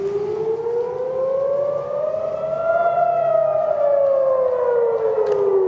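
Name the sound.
air raid siren in Jerusalem during missile interception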